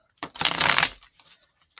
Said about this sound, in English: All right, and then we will shuffle these out.